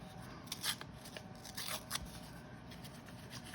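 Scissors cutting through a paper envelope while making Christmas ephemera, a series of crisp close snips and rustling paper at an uneven pace, quiet and with no talking.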